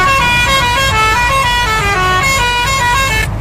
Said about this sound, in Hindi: जब वो शिप निकला तो कुछ ये हॉर्न बजा।